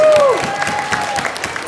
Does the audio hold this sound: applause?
yes